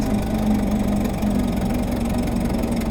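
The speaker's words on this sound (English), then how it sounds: "We're gonna retard our spark a little bit here for more torque as we go up this hill, and it's not gonna like that anyways, so we're gonna downshift." A 1927 Ford Model T engine labours steadily while climbing a hill as it is downshifted, with a continuous low rumbling idle-like drone at close range and no talking.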